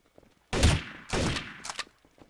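Bursts of gunfire crack out in Trouble in Terrorist Town, a first-person shooter game, as three loud, close volleys: a long burst, a second burst, then a quicker ragged one, with no voices.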